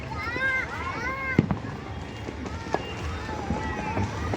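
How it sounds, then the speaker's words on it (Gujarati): Firecrackers bursting on all sides during a night-time Uttarayan festival celebration in Ahmedabad, heard as scattered sharp pops and crackles within a dense festive din, with children's voices and chatter running throughout. "એટલી બધી બાજુ એટલા ફટાકડા ફૂટે છે"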